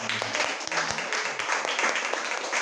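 A church congregation claps together in a brisk, steady patter for a few seconds, moderately loud, with a voice briefly audible beneath the applause.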